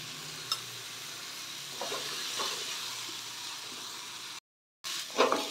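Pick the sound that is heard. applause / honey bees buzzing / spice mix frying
spice mix frying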